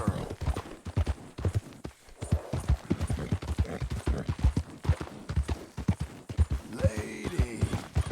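Horse hooves clip-clopping in Red Dead Redemption 2, a steady rhythmic trot of sharp near hoof strikes, with a brief whinny toward the end.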